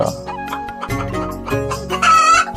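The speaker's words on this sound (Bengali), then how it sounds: "সে সেখানে অনেকগুলো মুরগি পোষা ছিল।" Cartoon farmyard hens on a farmer's big yard cluck in a lively, close run while a rooster crows loudly near the end, with no voices.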